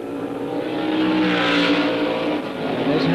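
Racing car at the 1972 Tasman Series round in Adelaide sweeps past at speed, engine roar swelling to a loud peak and fading, with a commentator's voice faintly underneath.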